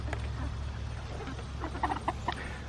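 Backyard chickens cluck in short, scattered bursts over steady low background noise, growing busier toward the end.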